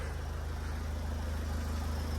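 An Opel Vivaro van engine idling steadily up close, an even low rhythmic throb with no talk.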